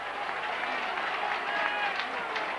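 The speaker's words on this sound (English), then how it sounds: "Just listen to this Rovers roar." A rugby league stadium crowd at Featherstone Rovers versus Castleford in 1988 roaring after a penalty kick, a sustained broad cheer with scattered applause, loud and continuous, with commentary talk over it.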